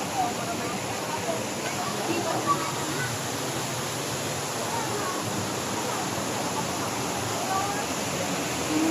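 A river waterfall roars as a constant, dense broadband rush of falling water, loud and steady without letting up.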